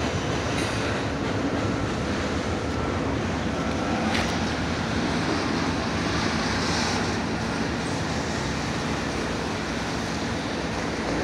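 Norfolk Southern train 203 passing with two 4,300-horsepower locomotives and trailer cars, a steady loud rolling roar of wheels on rail that holds for the whole stretch with no voices.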